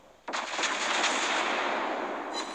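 Naval gunfire in World of Warships Blitz, with a tier 7 Nagato battleship: a sharp onset followed by a sustained, loud broadband roar of cannon fire and rumbling blasts that lasts through the clip, with no talk.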